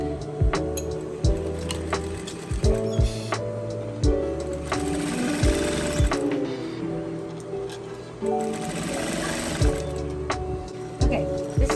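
A sewing machine stitching the side seam of a crossbody bag, running in steady whirring, humming bursts that speed up and stop several times, close and fairly loud.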